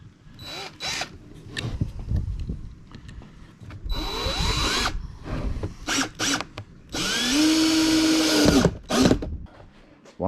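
A power drill drives screws to fix a leg onto MDF, giving several loud, close bursts of whirring. The motor pitch rises and falls between short pauses, and the longest run comes near the end.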